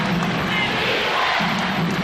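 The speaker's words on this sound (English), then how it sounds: "Chant of defense from the crowd" Arena crowd at a 1991 NBA playoff game, Chicago Bulls versus Detroit Pistons, a steady roar of many voices with a rhythmic chant rising and falling, heard from a distance.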